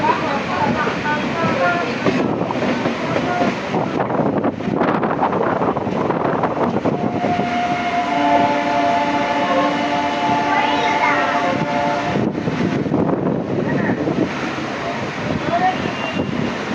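A passenger train rolls into Thirunallar railway station on the Karaikal–Peralam line, a loud continuous rumble and rail clatter with a horn sounding partway, buffeted by wind noise on the microphone.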